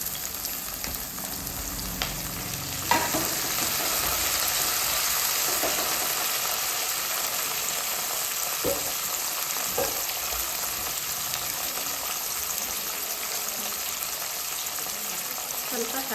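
Chopped tomato sizzles and fries in a hot pan, a loud, continuous crackling hiss lasting throughout, with a few soft stirring clinks and bumps along the way.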